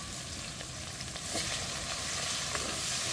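Chopped onion and ginger paste frying in oil for village-style chicken with cauliflower, a soft continuous sizzle that grows slightly louder midway, with faint scraping clicks scattered through.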